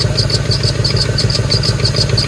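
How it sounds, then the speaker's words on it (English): A Ford Mustang GT V8 running with an exhaust manifold leak, a loud, steady engine rumble with a rapid, regular ticking knock pulsing through it, close to the microphone. "Still hearing that knock."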